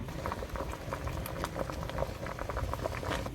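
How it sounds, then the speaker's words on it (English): A pot of fish and pumpkin boils steadily, giving a dense, continuous bubbling and crackling patter, close and even throughout. "I'm gonna cover this down and let it steam."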